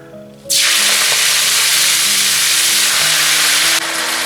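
Spinach hits hot oil in a wok for garlic stir-fry, bursting into a sudden loud roaring sizzle after a quiet start that holds steady for several seconds before dropping off sharply, close up with no speech.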